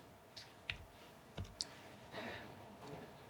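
A few sharp computer mouse clicks, spaced irregularly, with a quiet pause between them, close and crisp against a faint room hiss during Linux virtual machine setup.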